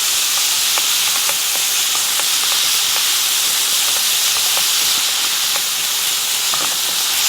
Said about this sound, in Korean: 여기에다가 조금 전에 준비한 고기를 넣고 볶아주도록 할게요